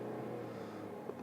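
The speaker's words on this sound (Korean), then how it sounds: "조금 이전에 있었던 그런 젠틀한 엔진이 아니라 뭔가 조금 아쉬운 그런 엔진의 사운드를 보여주고 있어요." New Mercedes-Benz E300 with a downsized four-cylinder engine hums steadily at low revs, a smooth mid-pitched drone heard close with a faint blip near the end.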